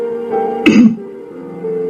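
A single short throat clearing, close and distinct, over a faint steady background hum.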